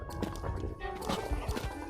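A horse in Zelda: Breath of the Wild neighs and its hooves clop in quick uneven beats, fairly faint under a busy game soundscape, with a voice talking over it.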